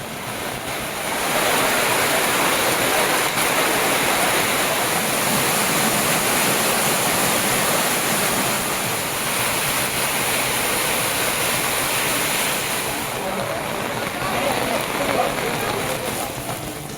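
Heavy rain floods low-lying areas around a temple town, a dense, roaring hiss of downpour and rushing water that holds steady and loud for most of the span after a quieter opening second.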